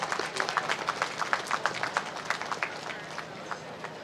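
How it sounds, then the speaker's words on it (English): A crowd of college students clapping at a quiz festival, a dense spattering of hand claps that thins out toward the end, heard at moderate distance. "A big applause to the students."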